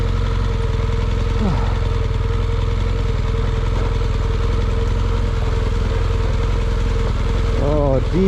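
A motorcycle on Michelin Anakee Adventure tyres rides off-road over a field of rocks about five inches high. The engine drones steadily and loudly throughout, with a rider's voice rising briefly over it.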